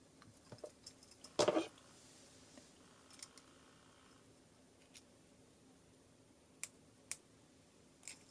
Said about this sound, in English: Nice little clicking sound there again.